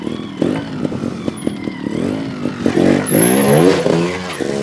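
A GasGas TXT 300 trials motorcycle engine revs up and down in a backyard, rising and falling in pitch with a strong surge of throttle near the end, loud and close.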